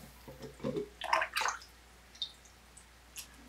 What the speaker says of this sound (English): So then we're gonna put gonna have some Florida water in here.